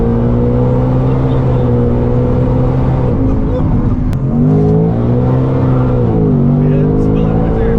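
Supercharged S650 Mustang GT on a dyno, engine revving loudly and steadily with a deep droning tone that dips and rises as the tires break loose, continuous throughout.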